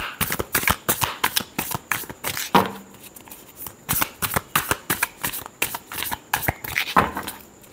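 Tarot cards are shuffled close by in a quick, rhythmic run of crisp riffling bursts that repeat steadily, with no voices.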